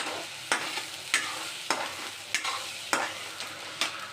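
Egg biryani masala sizzles and spatters in a hot pan, with sharp pops and crackles bursting out about every half second over a steady frying hiss, close and fairly loud with no talking.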